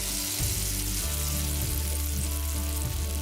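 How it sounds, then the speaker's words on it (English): Panch phoron spices sizzle and splatter in hot oil in a pan, a steady, close crackling fry broken by small pops, with no voices. "You can hear the splattering of the panchforon"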